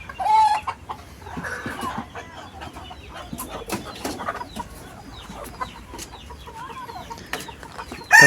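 Chickens and roosters on a small backyard farm cluck and squawk in scattered bursts, several birds calling near and far with brief louder outbursts at the start and end.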